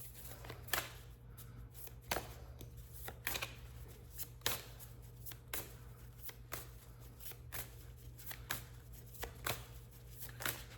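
Oracle cards shuffled by hand up close, a steady run of soft riffling slaps repeating about once a second against a faint low hum.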